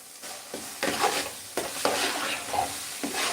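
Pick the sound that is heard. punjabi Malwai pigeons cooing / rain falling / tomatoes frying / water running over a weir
tomatoes frying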